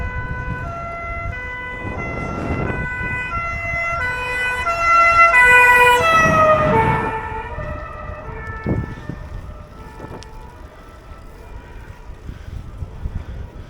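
Two-tone siren of a German professional fire brigade car wails past, rising in loudness as it nears and then fading into traffic rumble, with no talking.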